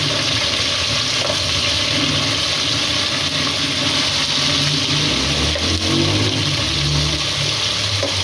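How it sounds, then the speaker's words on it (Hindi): Chicken pieces frying in a pan for biryani give a steady, loud, dense sizzle that holds evenly throughout, with a low rumble underneath and no voices. "बहुत ही कमाल का हमारा चिकन जो है फ्राई हो रहा है"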